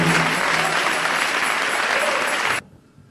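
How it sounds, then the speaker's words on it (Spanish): Congregation in a church gives a loud, dense round of applause in praise, steady and sustained for over two seconds before cutting off abruptly into near silence. "Dele ese aplauso de alabanza al Señor."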